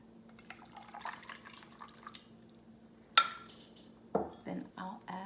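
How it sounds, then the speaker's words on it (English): An iced matcha latte is poured from a measuring cup over ice, with light liquid trickles and drips, then sharp clinks of ice and glass, close and fairly quiet against a faint hum. "Then I just pour it over the ice."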